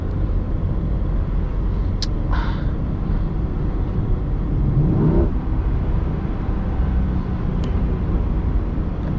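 A C8 Corvette accelerates through a snowstorm in whiteout conditions, with a steady low engine rumble and road noise heard from inside the car, without a strong rev rise.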